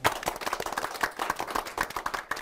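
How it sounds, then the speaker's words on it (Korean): A small studio audience at a live business talk show claps for the MCs, distinct separate hand claps in an uneven, lively rhythm at moderate volume. "오늘 수고해주신 MC분들 박수 부탁드리겠습니다"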